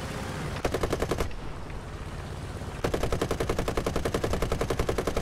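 Machine guns fire in War Thunder gameplay: a short rapid burst, a brief pause, then a longer sustained stream of fast, evenly spaced shots, loud and close.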